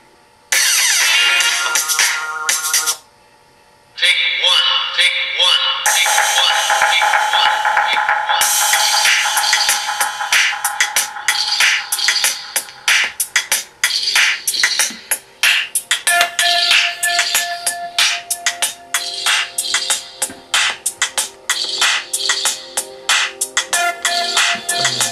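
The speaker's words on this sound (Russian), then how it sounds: "Качество воспроизведения музыки достаточно на высоком уровне." Music played loud through the built-in speaker of a Nokia 7510 SuperNova phone, bright and continuous with a brief dropout near the start, later breaking into choppy, rapid pulses.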